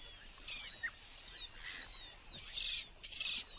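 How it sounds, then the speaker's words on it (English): A duckling of a brood-parasitic cuckoo duck gives thin, high chirping peeps, several short calls in quick bursts, faint and fairly close, with no talking. "A duckling."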